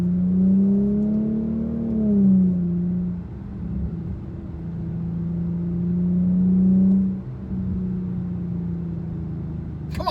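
An Infiniti Q50 fitted with an upgraded air filter, its engine droning steadily from inside the cabin and swelling with two throttle rises, low and sustained with no voices.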